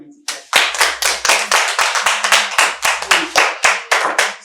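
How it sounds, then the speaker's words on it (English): A group claps hands in a mentorship class for bead training, giving loud, quick, steady bursts of claps for several seconds with faint voices underneath. "Give a mighty clap."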